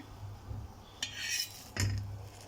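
A wheat dosa turned over on a hot pan, two short metallic spatula scrapes and clinks over a faint background sizzle, close and fairly quiet.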